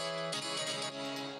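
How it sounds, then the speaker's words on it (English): Piano run through the Effectrix effect plugin in a house-music production, sounding bright and full with shifting, stuttering movement across a short sustained passage, no voices. "With the Effectrix, the piano sounds like this."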